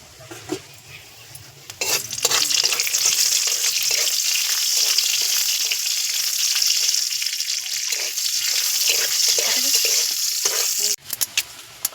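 Whole cumin and mustard seeds hit hot mustard oil with dried red chilli, bursting into a loud, steady sizzle after a quieter start, with crackles running throughout until it cuts off abruptly near the end.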